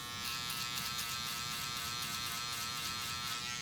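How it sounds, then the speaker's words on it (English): Electric beard trimmer buzzing continuously, a close, steady high-pitched motor drone with faint textural shifts as it moves, no voices. "Go ahead and tap the shaver."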